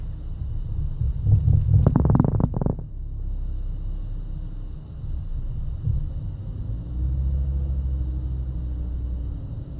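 A car engine idling unevenly, surging up and down and rattling on its own with no throttle applied: a steady low rumble with a brief burst of clattering early on, then a wavering drone.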